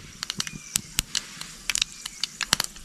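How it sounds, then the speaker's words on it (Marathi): Mustard seeds crackle in hot oil as a tempering for chutney, a close run of sharp, irregular pops and snaps scattered over a low background with no talking. "हे बघा मोहरी तडतडली"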